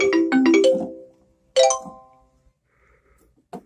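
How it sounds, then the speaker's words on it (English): Xylophone voice on a Thaynards TS-340 electronic keyboard plays a quick run of bright, bell-like struck notes, then a separate note after a short pause, each ringing out briefly, with a faint tap near the end. "Xylophone."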